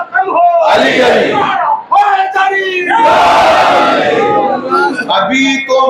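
A large crowd at a Shia majlis during Ramadan chants religious slogans in loud, rhythmic unison, voices rising and falling in repeated call-and-response bursts, close and dense.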